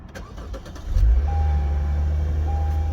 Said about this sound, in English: Now let's go ahead and start the car, see if we did everything right